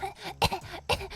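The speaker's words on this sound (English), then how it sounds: "You breathe in a sip of your drink and immediately begin coughing" A few sharp coughs right after someone inhales a sip of a drink, two strong bursts with short breathy sounds between, close and fairly quiet.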